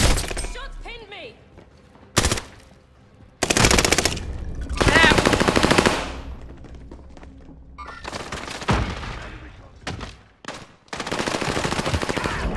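Call of Duty Warzone gunfire, loud machine-gun bursts and volleys crackling in several separate bursts with short gaps, with breaking and thudding impacts and brief talk between them.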